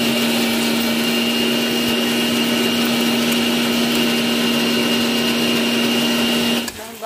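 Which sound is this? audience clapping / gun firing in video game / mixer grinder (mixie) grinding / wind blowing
mixer grinder (mixie) grinding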